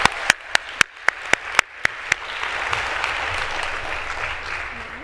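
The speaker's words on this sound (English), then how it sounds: "Let's give them a round of applause." A conference audience at a TechWomen celebration gives a handful of sharp, spaced claps that quickly swell into a dense, sustained round of applause, fairly close and loud.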